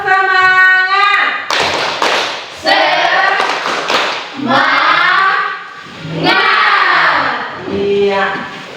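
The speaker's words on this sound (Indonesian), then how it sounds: "Tepuk semangat." A class of schoolchildren performs a rhythmic spirit clap, sharp patterned claps in bursts mixed with loud chanting voices, close and energetic throughout.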